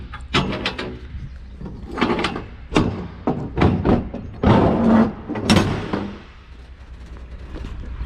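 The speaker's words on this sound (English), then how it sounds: "I'll open the door here." A 2021 Titan walking-floor trailer door is worked open with a series of loud metallic clanks, bangs and scraping rattles spread irregularly across several seconds, close by.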